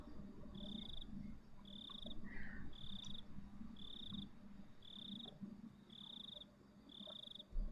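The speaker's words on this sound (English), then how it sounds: "Are you trying to do the like cicada sound?" Cicada-like insect calls in the Higurashi When They Cry Hou video game repeat as a steady, evenly spaced chirping pulse, about one per second, faint and distant over a soft night-ambience bed, with a low croaking layer underneath.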